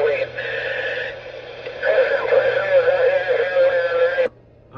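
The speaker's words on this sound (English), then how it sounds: "they better get that radio checked out" A radio keys up on a fire dispatch channel in Jersey City, New Jersey, producing a harsh, warbling electronic tone with wavering pitches for about four seconds before cutting out sharply.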